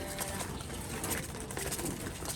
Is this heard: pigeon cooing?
yes